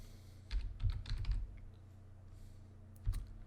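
Computer keyboard keys clatter in two short bursts of quick clicks, a cluster of rapid taps followed by a pause and then a few more, close and fairly quiet in a still room.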